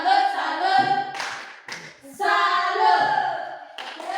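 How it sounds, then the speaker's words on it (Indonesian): A primary school class claps in a rhythmic applause cheer, several short bursts of group hand claps separated by brief gaps, with children's voices chanting along. "Kita tepuk salut untuk Yusma dulu."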